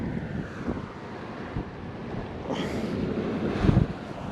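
Gusty wind buffets the microphone on a beach at Tybee while surf fishing after Hurricane Ian, a steady low rumble that swells with louder gusts near the end, with surf faintly mixed in.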